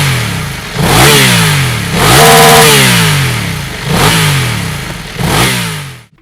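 A BMW F900R parallel twin motorcycle engine revs hard several times in a row, each loud rise and fall close by with brief dips between pulls.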